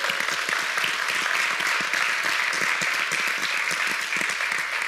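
A church congregation applauds loudly and continuously, dense and even clapping that fills the whole stretch without any speech over it.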